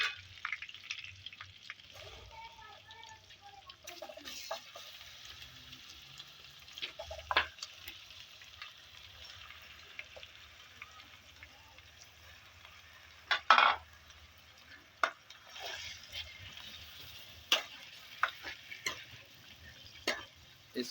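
Chicken fries in oil in a pan for a green karahi, holding a steady low sizzle broken now and then by sharp scrapes and clinks as it is stirred, close by with no clear talking.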